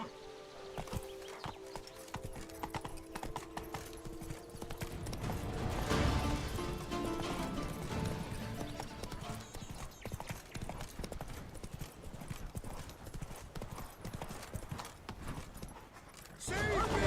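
Roach, a horse in the video game Witcher 3, gallops with a rapid, rhythmic clip-clop of hooves, close and fairly loud, going on throughout with brief voices heard now and then.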